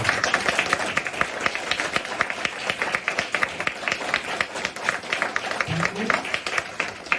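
A seminar audience claps enthusiastically in loud, sustained applause, dense and continuous for several seconds.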